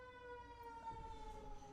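An ambulance siren sounds at a distance, a steady sustained wailing tone with harmonics, fairly faint and continuous across the moment.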